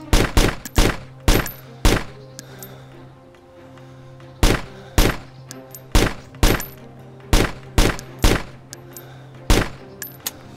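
Gunshots in DayZ: sharp, loud reports fired in irregular clusters of single and double shots, with a pause in the middle before another volley, each crack followed by a short decaying tail.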